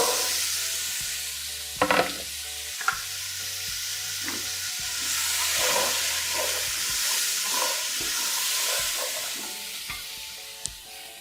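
Black chickpeas fry in spices in a pan over a low flame, a soft continuous sizzle broken by intermittent stirring scrapes and a few sharp clinks, fairly quiet and close, with no voices.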